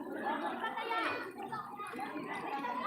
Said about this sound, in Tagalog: Ayan, maingay masyado yung mga bata.